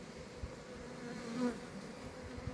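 Honey bees crawl over a brood frame in an open hive where young bees are emerging, giving a steady, close, low buzzing drone with a slight swell near the middle.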